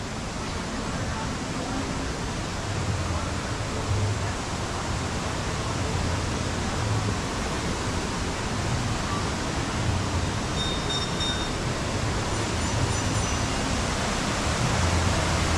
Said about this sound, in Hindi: पूरा वाटरफॉल है पीछे।